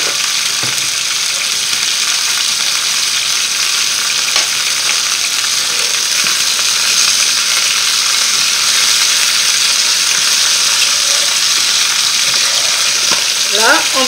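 Chicken frying in a pan for coconut curry, a loud, close, unbroken hiss and sizzle with faint crackles and a brief clink near the end, no voices.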